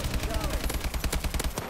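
Fast automatic gunfire from a weapon in a video game, a steady loud burst of rapid shots running throughout, with faint talking underneath.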